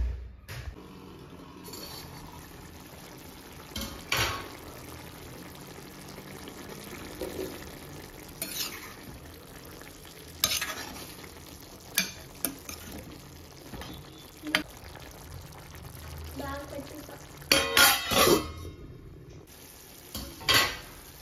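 Chicken cooks in a pan with a soft background bubble, broken by scattered clanks and scrapes of a utensil stirring against the metal, fairly quiet and irregular.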